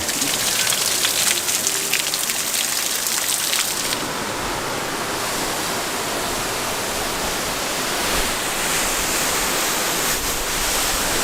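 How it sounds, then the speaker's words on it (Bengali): Spray from Staubbach Falls in Switzerland mixes with falling rain behind the waterfall, a loud, dense, rushing hiss that stays steady for the whole stretch, with no one speaking. "এই জায়গাটায় ভালোই পানি আসতেছে ঝর্ণা থেকে"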